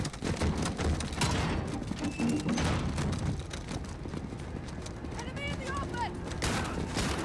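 Call of Duty: Modern Warfare firefight with bursts of gunfire and incendiary rounds, loud fusillades crowding the first half, then sparser shots, with voices talking over the action.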